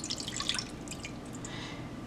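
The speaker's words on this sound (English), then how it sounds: "So I have my pot. I'm going to put some water." Water goes into a cooking pot for homemade Liberian coconut candy, a brief, faint splashing trickle with dripping highs, close by and without any speech.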